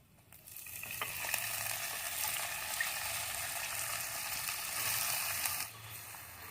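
Chopped chil (bathua) greens dropped into hot oil over a wood-fired chulha stove, a loud broad sizzle bursting up at once and holding steady for several seconds before easing off, with faint stirring.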